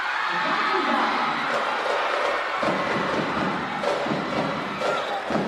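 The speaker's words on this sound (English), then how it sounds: "Listen to the crowd here." Crowd roaring and cheering at a girls' volleyball finals game in a UAAP gym at championship point, a dense continuous wash of voices with a commentator talking over it.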